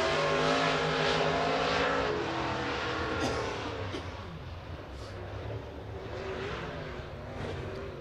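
Late model race cars run a qualifying session at Boyd's Speedway, their engines droning steadily at a distance and gradually fading, with no talk over them.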